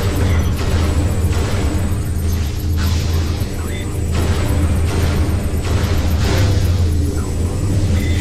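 Bombs go off on a boss in Metroid Prime 2, a steady dense stream of loud booming, rumbling bursts that runs the whole way through, with repeated blasts overlapping and no gaps.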